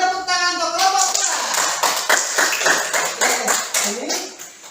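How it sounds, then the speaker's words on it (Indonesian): A classroom of students claps for a group after its presentation, with loud, close, uneven clapping that rises and falls in bursts over several seconds and a voice speaking briefly at the start. "beri tepuk tangan untuk kelompok 2"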